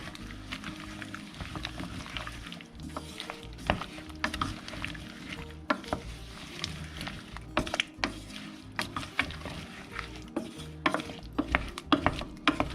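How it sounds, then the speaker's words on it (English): Peaches with cinnamon being stirred in a pot, repeated close scraping and knocking of a spoon against the pot in an uneven rhythm over a constant low rumble. "Stir all of that together."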